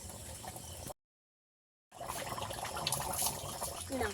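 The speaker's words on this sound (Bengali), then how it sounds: "এবারে ভালো করে জল দিয়ে দিতে হবে এই গরম জল দেওয়ার কারণে কিন্তু তাড়াতাড়ি ঝোলটা ফুটে যাবে" Hot water pours into a pot of Bengali-style desi chicken red curry, a steady splashing and trickling, loud and close. It cuts out for about a second, then resumes.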